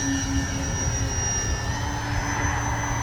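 An E-flite Beechcraft D-18 RC model plane takes off from grass, its twin electric motors giving a steady, loud high-pitched whine with sustained tonal hum throughout, no talk.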